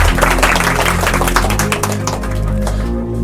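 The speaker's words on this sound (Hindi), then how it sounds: "एक बार अलीशा के लिए जोरदार तालियां" Loud applause from students at a mathematics coaching class results session, continuous and dense clapping that fills most of the clip over a steady humming tonal background, thinning out near the end with no talk.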